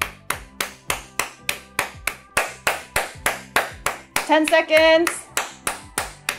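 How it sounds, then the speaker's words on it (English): Firm, evenly spaced hand claps repeat close by in a steady beat as part of a finger-joint exercise routine, with someone briefly speaking over them partway through. "Clap so you can feel vibration on your palms."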